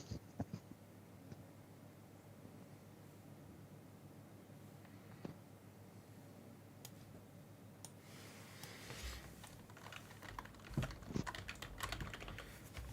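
Steady clicking of computer keyboard typing continues throughout, faint and close, with denser bursts of keystrokes toward the end.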